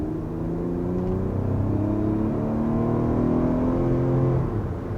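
A 2022 Lexus RX 350 F-Sport engine accelerating, a smooth refined hum rising steadily in pitch through the gears with a soft rumbling underneath, heard from inside the cabin with no talking.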